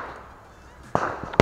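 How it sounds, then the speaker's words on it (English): Two sharp bangs of burning bamboo crack out like firecrackers near the end, the second louder, after a second of quiet outdoor hiss. "Hey, look, there's a firecracker now."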